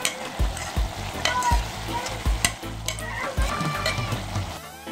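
Food frying in a pan as it is stirred, with a steady close sizzle and repeated sharp scrapes and knocks of the utensil against the pan in an irregular rhythm, no talk.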